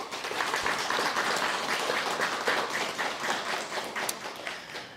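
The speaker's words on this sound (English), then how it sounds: "let's give them a round of applause" A crowd claps at a guide dog graduation ceremony, a sustained wash of many hands applauding at even strength for several seconds, with no voices over it.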